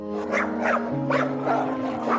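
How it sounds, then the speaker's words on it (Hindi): A cartoon dog barks loudly in a quick run of about five yelps as it dashes toward a village field, set over a steady musical drone. "जोर जोर से भौंकने लगा"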